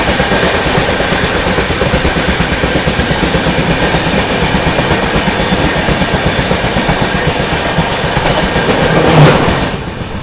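Gondia–Kolhapur Maharashtra Express passing at close range, a loud steady rush of wheels with rapid rhythmic clickety-clack over the rails throughout, easing slightly at the very end.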